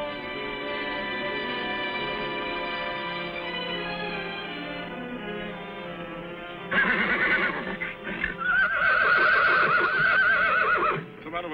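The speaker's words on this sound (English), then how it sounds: "What's the matter with that mare?" A mare whinnies in a loud, high, quavering neigh, first a long sustained call, then sharper bursts of neighing with a faint clip-clop of hooves, with no talk over it.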